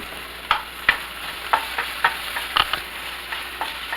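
Food sizzles in a pan as it is stirred, a soft steady fry punctuated by repeated scraping taps of a utensil.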